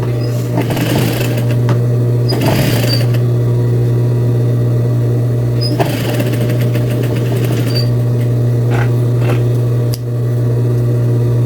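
A sewing machine stitching fabric, opening with a short backstitch, then running in several brief bursts of fast rhythmic needle clatter over a constant loud motor hum, close up.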